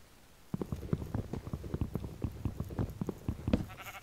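Sheep bleating in the video game Minecraft, a run of short, closely spaced bleats and grunting calls repeating steadily and close by, with no talk over them.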